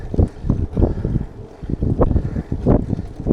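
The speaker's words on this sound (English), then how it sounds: "Don't know if you can hear me over the wind." Strong wind buffeting the microphone while cycling a Santander hire bike along a London cycle path, loud and close, a continuous rumbling gusty roar that swells and falls in uneven pulses with no voice heard.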